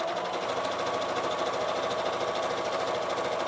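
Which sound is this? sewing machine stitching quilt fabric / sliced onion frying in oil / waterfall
sewing machine stitching quilt fabric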